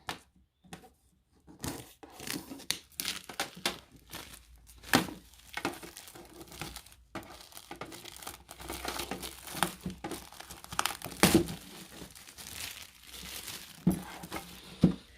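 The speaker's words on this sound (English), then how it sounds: "So let's just take off all the plastic covering." Plastic wrapping is peeled and crumpled off a special limited edition Seed and Oracle tarot deck, with close, irregular crinkles and crackles coming in bursts.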